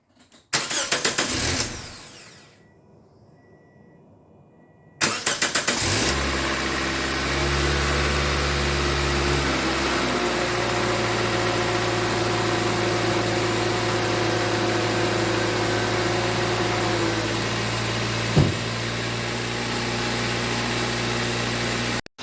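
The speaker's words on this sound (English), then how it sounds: "and then we can start the engine." A 2005 Toyota Corolla 1.8 engine cranks briefly and falls quiet, then cranks again, catches and settles into a steady, close, moderately loud idle that drops slightly in pitch as it runs on.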